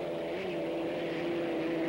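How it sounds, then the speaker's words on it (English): A Merlin-engined racing hydroplane boat at the 1985 Syracuse race, a steady droning engine roar with a sustained tonal whine, heard from a distance without a break. "A Merlin engine for the Executone"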